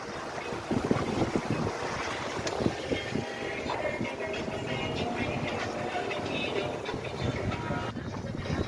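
A sailboat runs under sail at about seven knots, with steady rushing wind buffeting the microphone and water hissing along the hull throughout, loud and continuous.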